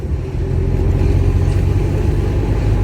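A car's engine rumbles steadily and loudly from inside while driving during manual gear-shift practice, a low constant drone with no talk.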